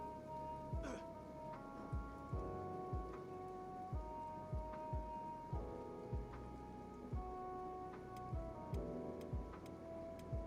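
Acid rain patters steadily on surfaces in the game Kenshi, with regular ticking hits and tonal game music running underneath, fairly faint and without talk.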